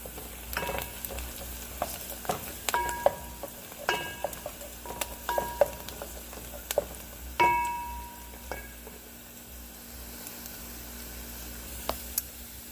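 Onions browning in a pan while rice is made, a soft sizzle under scattered spoon taps and clinks against the pan, fairly quiet and close, with no talking.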